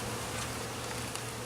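Honey bees swarm around an open hive in a dense, continuous buzzing hum, close and steady, with no voices over it.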